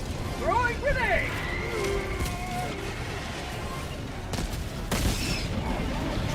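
Grenade blast and rifle gunfire in the video game Helldivers 2, several sharp bursts and booms over a busy battle bed, with a loud crack near the end.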